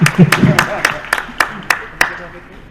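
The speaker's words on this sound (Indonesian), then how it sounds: "Sekali lagi tepuk tangan." A group claps in unison at an Indonesian breast cancer event, about eight sharp, evenly spaced claps in a steady rhythm that fade slightly toward the end.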